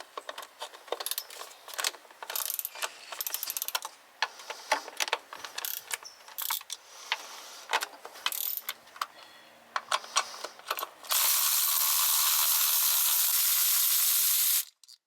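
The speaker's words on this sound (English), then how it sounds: "Then remove the 7mm bolts." A ratchet wrench removes 7mm bolts on a Jaguar X-Type engine, with rapid clicking bursts close by and in repeated runs, followed by a steady hiss near the end.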